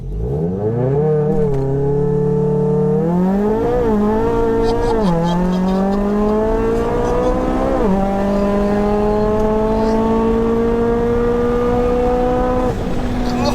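An 800 bhp Volkswagen Golf R launches at full throttle and pulls hard through the gears, engine roaring loud and close with rising pitch sweeps broken by quick gear-change dips, sustained all the way.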